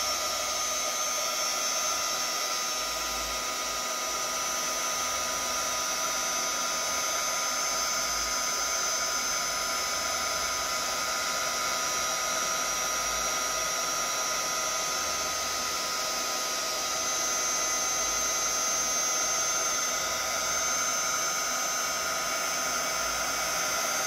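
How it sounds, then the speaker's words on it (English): An electric heat tool blows steadily across an epoxy resin beach-scene art piece, a constant, close, airy roar like a hair dryer that holds unbroken for the whole stretch with no talking. "I'm going to hit this with some heat."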